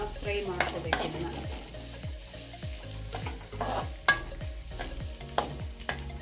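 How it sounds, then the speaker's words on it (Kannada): Green chillies and onion frying in a pan for spicy kharada holige, with a continuous sizzle and repeated rhythmic scraping strokes of a spoon against the pan, close and fairly quiet, no talking. "ಮೆಣಸಿನ್ಕಾಯಿ ಹಾಕ್ತಾ ಇದ್ದೀನಿ, ಈರುಳ್ಳಿ ಹಾಕ್ತಾ ಇದ್ದೀನಿ, ಹಾಕಬೇಕು. ಕೆಂಪಾಗ ತಕ್ಕನ ಫ್ರೈ ಮಾಡ್ಕೋಬೇಕು."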